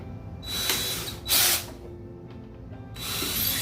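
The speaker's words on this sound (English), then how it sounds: "So now I can drill my plexiglass holes a little bigger on the top end" Power drill boring holes in plexiglass, several short whirring bursts with pauses between, one louder burst near the middle, close by and with no talk.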